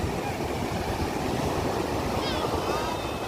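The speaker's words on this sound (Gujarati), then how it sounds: "જો દરિયાના મોજા કેટલા ઊંચા આવે" High sea waves at Madhavpur beach in rainy, windy weather make a loud, continuous surf roar with heavy wind buffeting on the microphone.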